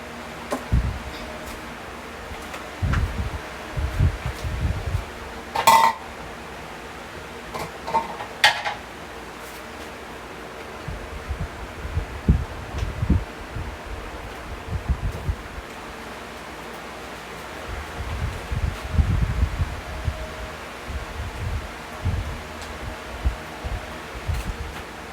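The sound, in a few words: stirring rice in a cooking pot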